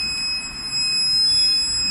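A steady high-pitched continuity beep from a multimeter, held for about two seconds while its probes touch a pin on a mobile phone charger connector, with no talking.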